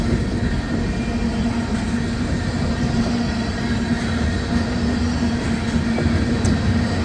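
CSX freight train rolling past in the rain, a constant low rumble with a steady hum and faint clanks from the cars, close and even throughout, no voices.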